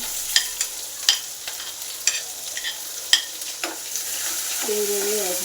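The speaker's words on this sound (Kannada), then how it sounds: "ಸಾಸಿವೆ ಜೀರಿಗೆ ಸಿಡಿಬೇಕು" Mustard seeds and cumin crackle in hot oil, with sharp scattered pops and spoon taps over a quiet sizzle, close by and with no voices.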